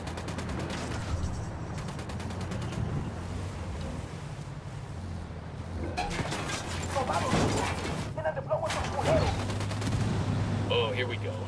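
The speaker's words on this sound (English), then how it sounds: "Opening fire." Gunfire in Ghost Recon Wildlands crackles in rapid, dense bursts over a constant low engine-like drone, growing heavier midway with clustered automatic volleys.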